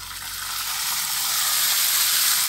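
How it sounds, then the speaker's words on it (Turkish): Vermicelli frying in a pan over a charcoal grill, a loud continuous bright sizzle that swells slightly and holds steady for a couple of seconds. "Baksana, hemen kızarttı şehriyeyi bak."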